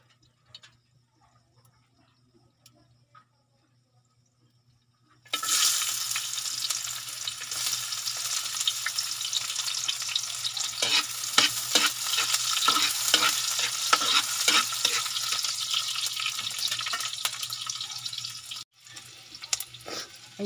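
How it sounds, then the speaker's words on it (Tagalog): Food hits a hot frying pan for sautéing and sets off a loud, steady sizzle after a few quiet seconds, with clinks and scrapes of stirring running through it, close by and with no talk. "Ayan na, gisa muna natin."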